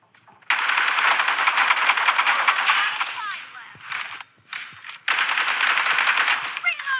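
Rapid automatic gunfire from a video game, loud and continuous in long bursts with a brief pause in the middle before firing resumes, close and dominant.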